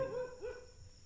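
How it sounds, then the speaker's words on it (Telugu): Dogs barking at night, faint and distant, with a couple of drawn-out yelping calls over a quiet background. "కుక్కలు అయితే అరుస్తున్నాయి"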